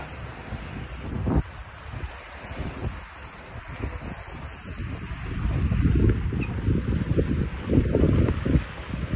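Cold wind blowing outdoors during snowfall on a street with passing cars, buffeting the microphone in low rumbling gusts that swell louder toward the end, with faint background hiss.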